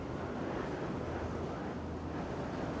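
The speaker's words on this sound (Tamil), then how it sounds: "நல்ல காற்றடிக்குது" Strong wind roars steadily against the microphone in the U.S. Virgin Islands, a dense continuous rumble with no pauses.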